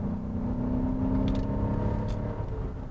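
A 2002 Cadillac DeVille DTS, a front-wheel-drive sedan, cruising with a low, steady engine rumble and road noise, faint and continuous throughout.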